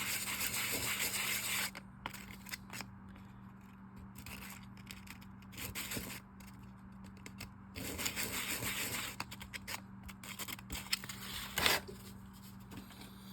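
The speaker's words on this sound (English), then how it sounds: "is just very gently sand this just to take the polish off of it." Fine abrasive gently sands polish off a Johnson 088A fishing reel part, giving close, intermittent rubbing strokes in short bursts with brief pauses over a low steady hum.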